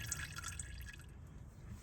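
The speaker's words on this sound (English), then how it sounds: "Okay, so we got a pretty slow drip. So that means most of the oil is out." Engine oil drips slowly from a Lotus Evora into a drain pan during an oil change, making soft, steady ticks of liquid against a faint hiss.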